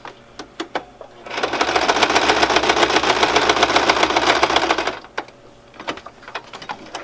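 A sewing machine backstitching while making a notebook, a few single stitches then a fast steady whirring run of about four seconds, followed by scattered clicks and handling sounds, close and fairly loud.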